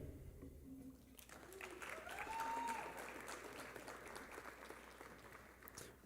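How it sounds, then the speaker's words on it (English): Applause at an honors ceremony for sophomore honor students, a steady crowd clapping at moderate volume that swells briefly in the middle, with a voice faintly audible beneath. "You may applaud for your students when their name is called"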